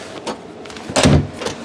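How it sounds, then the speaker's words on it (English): The sliding door of a 2025 Salem Cruise Lite 25ICE RV rolls shut with a few soft rumbles, then a louder thud as it closes, in a quiet interior. "Always keep the sliding door latched when you're traveling."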